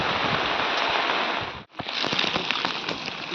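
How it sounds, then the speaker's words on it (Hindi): Steady rain on a mountain trek to Madhmaheshwar, a dense, even hiss of drops hitting surfaces that cuts out for an instant midway and then resumes just as strongly, with no voices. "तो भैया हो रही है बारिश।"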